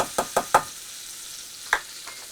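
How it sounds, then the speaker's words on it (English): Onions and mushrooms sautéing in four tablespoons of butter give off a faint sizzle, broken by a quick run of four sharp utensil knocks against the pan, then one more after a pause, with no talking. "We're going to put our onion,"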